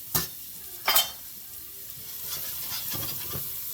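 Seasoned food fries in a pan: a steady soft sizzle runs throughout, broken by two sharp, loud stirring scrapes near the start and several lighter stirs later.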